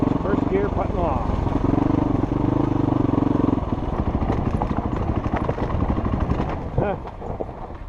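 A KTM 350 EXC-F dirt bike putts along a narrow single-track trail in Idaho. The engine runs close up with a steady, low, throbbing drone that falls off slightly near the end.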